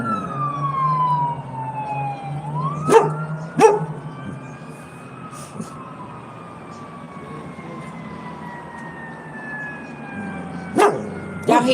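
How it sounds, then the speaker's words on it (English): An ambulance siren wails steadily with a falling then rising tone, joined by a few sharp barks from a dog nearby. "Here comes the ambulance."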